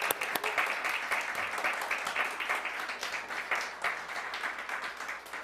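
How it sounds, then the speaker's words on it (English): An audience applauds steadily throughout, a dense patter of many hands clapping at moderate level from a nearby crowd, with no talk over it. "So let's give Jasmine an incredible round of applause."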